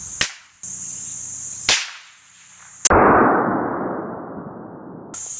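Remington Model 511 Scoremaster bolt-action rifle fired at a playing card about 18 to 20 yards away: three sharp, loud shots spaced roughly a second apart, the last followed by a long fading hiss of noise.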